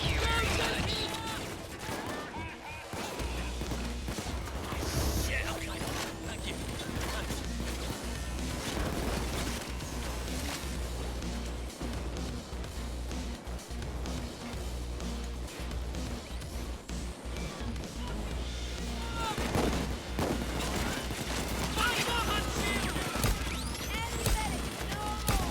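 Gunfire in Payday 2 during a chaotic heist firefight, dense rapid shots and crashes running continuously through the whole stretch at steady loudness, with game music and voices mixed underneath.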